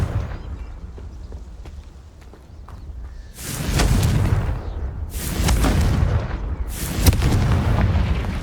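Three loud, booming fire-spell blasts from the Confringo spell in Hogwarts Legacy, each a broad explosive burst with a rumbling tail, set against a low battle ambience with faint taps between them.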